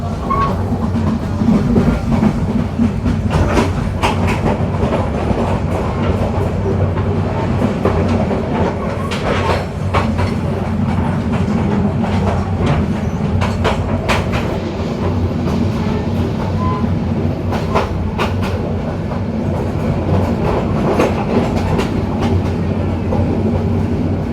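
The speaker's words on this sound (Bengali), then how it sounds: "আমরা পার করছি নাঙ্গলকোট রেলওয়ে স্টেশন" Cox's Bazar Express passenger train rolling past Nangalkot railway station, a steady loud rumble of wheels and carriages with rhythmic clickety-clack over the rails throughout, no talking.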